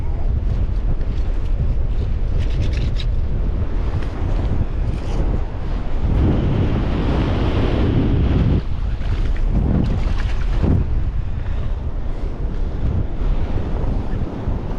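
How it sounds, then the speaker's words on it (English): Strong wind on a beach buffets the microphone in loud, roaring gusts. The gusts swell and fade over a constant rushing background that may include surf. "It's just so windy."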